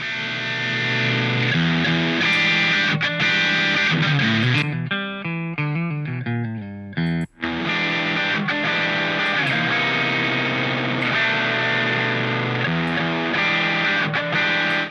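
Heavily distorted electric guitar through a Boss DS-style Turbo Distortion plugin, chugging chords, a short run of single notes in the middle, then thick sustained crunchy chords; loud and saturated.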